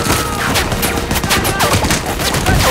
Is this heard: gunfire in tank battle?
yes